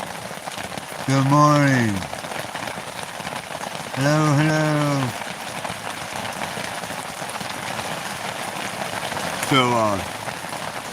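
Steady rain patters in a continuous hiss throughout, fairly close, while someone speaks briefly in three short bursts over it.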